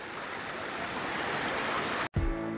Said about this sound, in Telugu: భీమతలాయ్ నుంచి కుంషాకెళ్ళి దారిలో ఉండే జలపాతం.